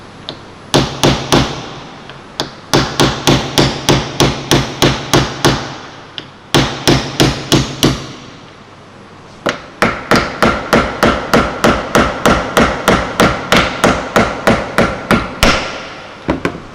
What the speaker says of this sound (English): just drive the pin all the way in to the rivet